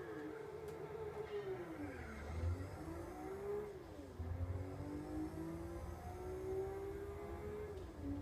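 Early-generation Nissan Skyline race cars in Gran Turismo on PlayStation 2, engines droning steadily with rising and falling pitch as they shift and accelerate together, close and continuous throughout.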